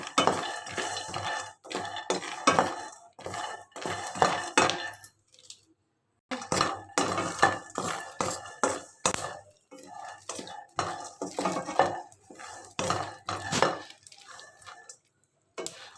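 Dry nuts such as peanuts, almonds and pistachios are being roasted and stirred in a pan. Repeated scraping and clinking strokes come in close bursts, with a short silent pause partway through.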